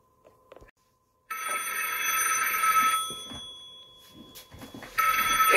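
A telephone rings in a steady electronic trill, loud and close, in two bursts with a brief dip between them, with no voices over it.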